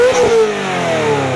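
A recording of a Ferrari 355 engine is played back, revving with a loud, high-pitched wail whose pitch rises and then settles across a brief burst.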